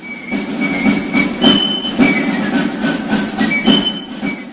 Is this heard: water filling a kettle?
no